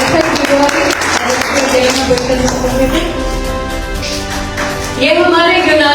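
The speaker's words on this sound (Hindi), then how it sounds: "हम जोरदार तालियों से उनका स्वागत करेंगे।" Church congregation applauding to welcome guests at a Greek church service: dense, continuous clapping fills the room while a voice and music-like tones sound over it.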